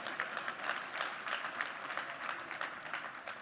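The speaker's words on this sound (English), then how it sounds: "Yeah, I didn't expect applause for that." Sustained applause from an audience at a quantum computing talk, a dense patter of many hands clapping at even strength without a break.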